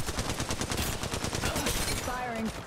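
Rapid, dense automatic gunfire in the mobile shooter Apex Legends Mobile, loud and sustained as bursts of shots crackle continuously, with a brief voice near the end.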